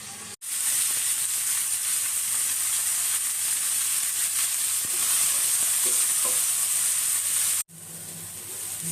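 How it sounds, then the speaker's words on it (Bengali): Onions sizzle steadily and loudly in a hot pan for a mashed fish bhorta, a dense hiss that breaks off briefly near the start and near the end, with no voices. "ভালো করে পেঁয়াজগুলো ভেজে ফেলতে হবে।"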